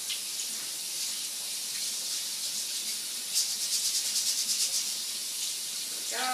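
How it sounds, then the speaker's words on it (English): Quinoa is rinsed in a strainer under cold running tap water, a steady hissing stream close by with a brief burst of splashy sloshing midway. "just give it a really good rinse in cold water"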